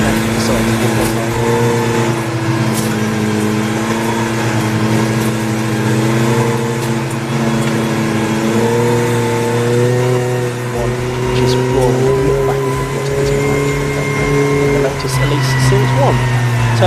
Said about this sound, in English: So a big old grid of cars